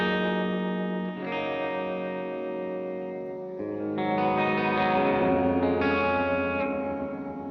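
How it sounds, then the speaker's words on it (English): Electric guitar chords ring through a Gamechanger Audio effects pedal layered with spring tank reverb, swelling and sustaining with a wide, wet tail, played alone without any voices. "you can start stacking the spring tank reverb with that"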